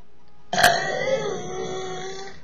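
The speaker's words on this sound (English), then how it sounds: "That was the worst burp I have ever had." One loud, close belch from a person bursts out suddenly, then holds as a long, strained, tonal croak that slowly fades over about two seconds.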